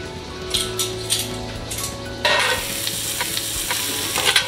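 Garlic powder and salted butter being mixed in a bowl for a leg of lamb oven roast, with soft scraping stirs and a few light clinks, brief louder bursts of mixing noise partway through.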